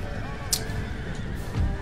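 Horses whinny amid a busy battlefield in Empire: Total War, a short bright neigh rising over a dense, rumbling wash of game noise.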